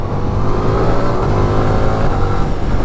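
A 2026 Ducati Diavel V4 motorcycle accelerating, its engine giving a loud, close, steady throaty drone with a rising rev and no talk over it.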